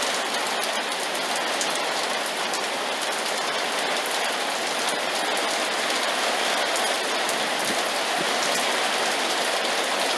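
Steady rain falls through the night over Las Vegas, a dense continuous hiss of drops spattering on surfaces close by, loud and even throughout with no voices.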